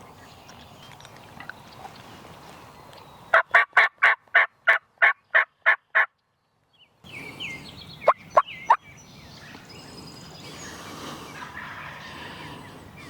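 A run of about ten loud, rapid wild turkey gobbles in spring in New England, then a pause and a few more sharp gobbles over faint outdoor background noise.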